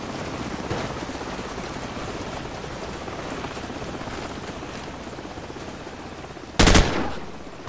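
Sustained automatic gunfire from a Call of Duty 4: Modern Warfare battle, dense and continuous with a helicopter-like rumble beneath it, capped by one sharp, loud burst near the end.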